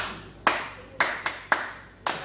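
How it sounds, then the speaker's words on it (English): A few hand claps at a showbiz interview, four or five sharp, separate claps spaced about half a second apart, each ringing briefly into the room before the next. "Clap for her."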